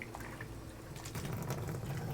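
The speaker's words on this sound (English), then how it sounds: "put a little bit of water back into the cup" A little water is poured back into the plastic cup of a Wagner Flexio 2000 HVLP paint sprayer, giving a short, quiet trickling splash close by.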